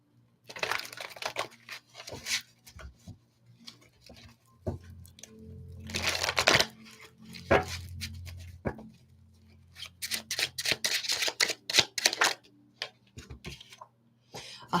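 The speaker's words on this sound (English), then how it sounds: "I feel like I need to shuffle some more." A gold foil tarot deck is shuffled during a live reading, giving crisp papery riffles and crinkly card flicks in short irregular bursts separated by quiet gaps, close and soft, with no speech.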